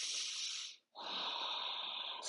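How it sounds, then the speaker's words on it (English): Steady breathing, a long airy exhale, a brief pause, then another sustained breath, close and clear during a glute-focused Pilates and yoga floor exercise. "breathing"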